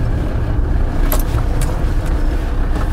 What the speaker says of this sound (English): I'll knock this engine off so you can actually hear me.